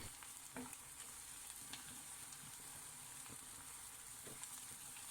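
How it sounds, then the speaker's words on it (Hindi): Chopped ginger and garlic sauté in a pan for a Patiala chicken curry, giving a soft steady sizzle with a few faint stirring clicks, no speech. "यहाँ पर मैं जिंजर गार्लिक को 2-3 मिनट के लिए सौटे करूँगी"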